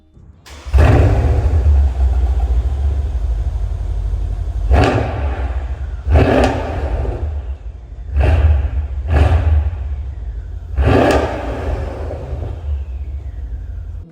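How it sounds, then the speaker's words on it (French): A Mercedes S63 AMG Coupé with a valved exhaust bursts into a loud, close engine roar, then holds a deep rumbling idle broken by four sharp throttle blips with barking exhaust. "surtout celle-ci a des valves à son échappement, ça gueule dans tous les sens, c'est fabuleux"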